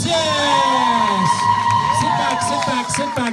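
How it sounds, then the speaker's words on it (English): A high school grad night hypnotist show audience cheering and whooping, with loud overlapping yells and shouts from young people dominating and applause mixed beneath. "And give them a round of applause"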